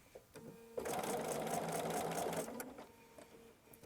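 A sewing machine stitches quilt block fabric in a short, steady whirring run lasting a couple of seconds, close by and moderately quiet, then winds down; no speech.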